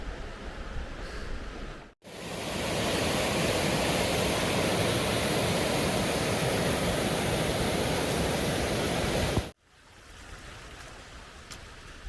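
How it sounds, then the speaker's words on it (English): Arthog waterfalls pour in a loud, steady rush of falling water that fills the scene for several seconds, with quieter outdoor ambience before and after. "these waterfalls are getting more impressive"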